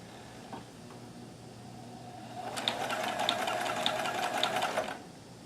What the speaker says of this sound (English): let's see what happens when we try and stitch now